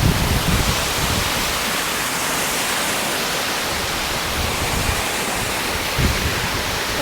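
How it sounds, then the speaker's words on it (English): Steady broadband rush of water spraying from a public fountain at Asiatique in Bangkok, continuous and fairly loud throughout, with no talking. "We're back at the fountain, but this time around I'm gonna get my hat wet."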